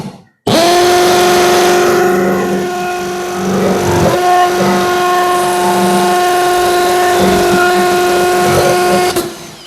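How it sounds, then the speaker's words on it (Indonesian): A Milwaukee M12 FPD2 cordless drill bores into a wall with a steady, loud motor whine that holds an even pitch for about nine seconds before cutting off abruptly. "tidak ada struggle sama sekali ini untuk mengebor tembok"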